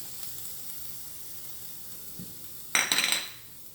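Sun-dried tomatoes and garlic hit a hot pan together in a burst of sizzling and frying, loud and close for about a second before fading to a soft hiss over a quiet kitchen background.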